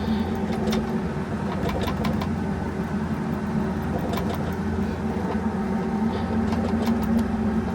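A 4WD tractor engine runs steadily close by, a constant droning hum with a broad low rumble and faint ticking, holding an even level throughout with no speech.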